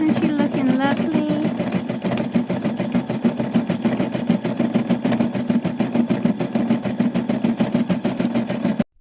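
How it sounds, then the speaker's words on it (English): A sewing machine embroiders a name onto a doll's blanket, a fast steady mechanical stitching rhythm running close and loud for several seconds before stopping abruptly. "Embroidering Alice onto my daughter's doll's blanket."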